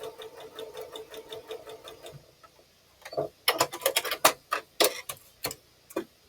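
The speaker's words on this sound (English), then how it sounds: "So let me sew on this line" Sewing machine stitching quilt binding, a quick run of even rhythmic needle ticks, then a pause and a series of louder separate clicks and knocks as the machine is handled.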